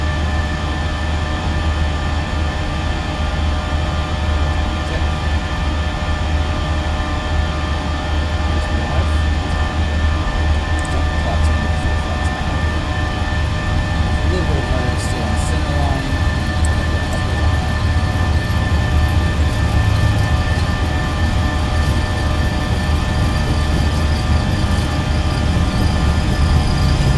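Delta Boeing 737-800 engines held at takeoff thrust in the Prepar3D flight simulator on a Seattle departure, a steady, loud, unbroken roar with a constant whine layered over a deep rumble throughout.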